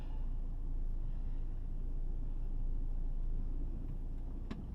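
A truck creeps forward in low gear while splitting from its trailer, a steady low engine rumble held at an even, moderate level throughout with no voices.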